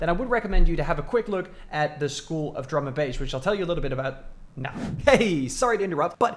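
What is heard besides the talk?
No distinct noise like a dog, phone or traffic.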